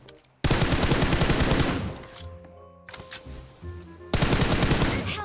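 Sniper and automatic gunfire from the BGMI mobile battle game, with loud sustained bursts at the start and again near the end and sparser shots between, with no talk over them.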